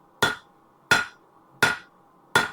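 Four hard, ringing hammer strikes land on a metal animal sculpture, evenly spaced and close by, each with a short metallic decay and no voices.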